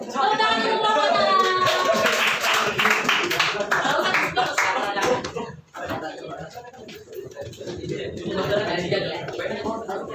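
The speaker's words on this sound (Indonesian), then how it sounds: "Tepuk tangan untuk kelompoknya" Classroom applause for a student group after a presentation, clapping mixed with lively chatter and chuckles from students, loud and close, thinning out midway before voices resume.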